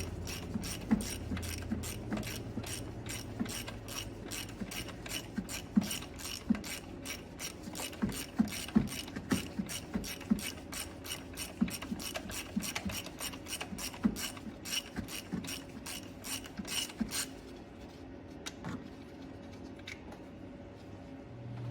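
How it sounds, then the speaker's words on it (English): A hand ratchet clicks steadily through many quick strokes while backing out bolts on the engine of a 2016-2022 Lexus RX350, close and fairly loud in a garage, the clicking stopping near the end. "These 2 I can't get onto with my gun, so I just take them off with a ratchet."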